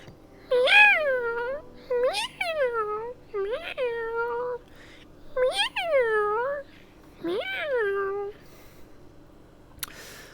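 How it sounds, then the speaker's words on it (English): A cat meows five times in drawn-out, rising-and-falling calls, close and clear with short pauses between them, followed by a faint click at the end. "Oh, we have a meow."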